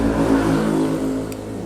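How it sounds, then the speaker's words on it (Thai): A car engine revving nearby, a loud low rumbling drone that holds steady and then eases slightly, close to the microphone with no talking. "ขออภัยเสียงรถ"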